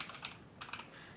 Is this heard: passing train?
no